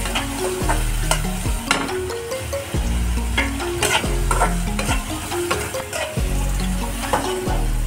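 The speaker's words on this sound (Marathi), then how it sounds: "आता आपण कांदा फ्राय झालाय, टोमॅटो टाकून घेणार आहोत। टोमॅटो फ्राय होऊन देणार आहोत।" Onion and tomato frying in a pan, a loud, close sizzle with repeated scraping and clanking of a spoon stirring against the metal, plus some low tonal hum in the background, without speech.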